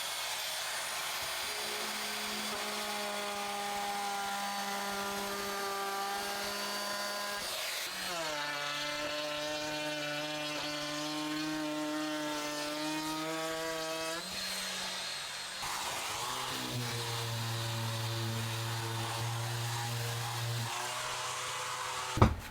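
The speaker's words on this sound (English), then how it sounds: "I have a round over bit in my router and I'm going to run that round the outside." An electric router fitted with a round-over bit runs along the edge of a wooden coat-hook board, a sustained whining motor drone that shifts pitch in several long passes, fairly quiet and alone.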